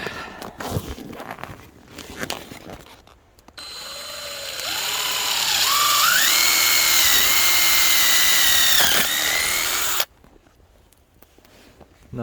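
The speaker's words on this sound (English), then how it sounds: "I decided that I wanted to drill some dummy holes now" A power drill spins up and runs for several seconds, its whine rising in steps as it grinds through antler, then cuts off abruptly.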